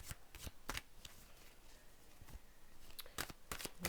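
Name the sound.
shuffling elemental oracle deck cards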